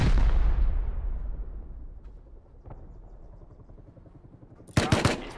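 Gunfire from a Rust PvP fight opens with a heavy, booming shot that fades into a long echoing tail, then a sharp burst of several quick shots near the end.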